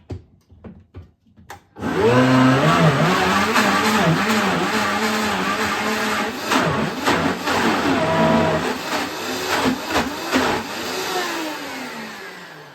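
A blender whirs loudly and steadily after a few quick clicks, blending almonds with a little water for almond cheese, its motor pitch wavering as the contents churn, running for about ten seconds before cutting off.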